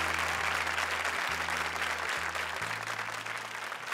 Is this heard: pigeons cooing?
no